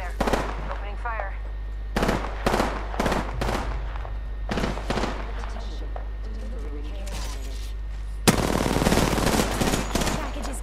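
Apex Legends gunfire: repeated close bursts of automatic fire, several short volleys, then a long loud sustained burst near the end, over a steady low game hum with occasional voice lines.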